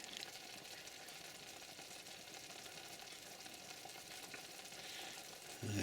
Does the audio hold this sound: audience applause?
no